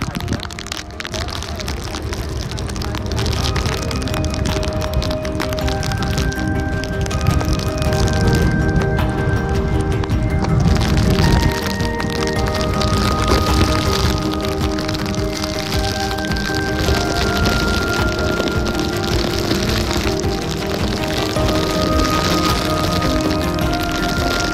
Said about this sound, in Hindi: सामने बारिश देखो इतनी जोर से हवा आ रही है कि हम लोग गाड़ी नहीं चला पा रहे हैं